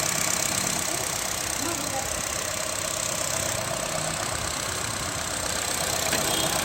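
Used 2013 Honda City car engine idling, a steady, continuous hum held at an even level throughout, with faint voices in the background.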